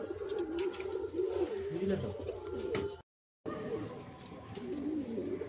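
Pigeons, including a male bird, coo repeatedly in a loft in Kharagpur housing Madrasi and Andhra breeds. The low, rolling calls sound close and continuous, with a brief silent gap midway.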